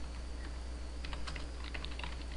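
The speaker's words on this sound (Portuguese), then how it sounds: "Dá um clique e digita aquilo que você vai" Quick bursts of typing on a computer keyboard, clustered clicky keystrokes heard close and quiet over a steady low hum, with no talking.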